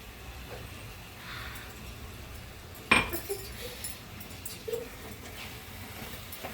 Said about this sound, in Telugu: యాలకుల పొడి మిక్స్ అయ్యేంత వరకు బాగా కలపాలి